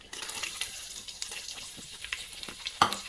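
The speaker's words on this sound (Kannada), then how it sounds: "ಎರಡು ಈರುಳ್ಳಿ ಚೆನ್ನಾಗಿ ಫ್ರೈ ಮಾಡ್ಕೋಬೇಕು" Onions frying in a pan for chicken biryani, a close, moderate sizzle with irregular stirring scrapes and a brief louder clatter near the end, with no talking.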